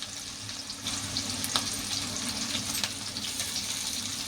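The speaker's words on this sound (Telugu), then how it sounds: "ఆ రొయ్యలు వేస్తున్నానండి దీనిలో. అవి అలా ఏగుతూ ఉంటాయి." Dry prawns sizzling in hot oil in a pan with onion pieces and green chillies, a steady close frying hiss with faint crackles and occasional stirring clinks, no voices.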